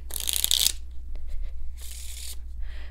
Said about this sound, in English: we're going to shuffle up the deck here